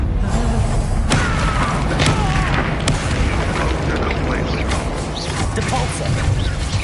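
The Confringo fire spell in Hogwarts Legacy lands as a loud, booming blast within constant heavy combat noise, with sharp impacts scattered on top and a voice calling out amid the din.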